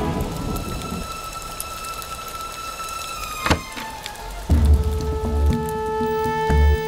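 Heavy rain pours steadily onto surfaces, a dense close hiss with a sharp knock partway through and a low rumble later, and no voices.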